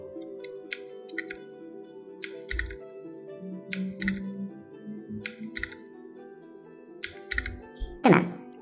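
Keys and shortcuts pressed on a computer keyboard produce scattered sharp clicks and taps, some in quick pairs, over a low steady background hum, with a brief louder sweep near the end.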